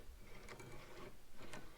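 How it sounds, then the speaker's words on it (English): Wide front axle thrust bearing from an IH 1086 tractor being turned by hand, giving a soft, steady mechanical whir with faint clicking and a few brief scraping swells over under two seconds, close and quiet. "Hopefully you guys can hear just how silky smooth this thrust bearing is."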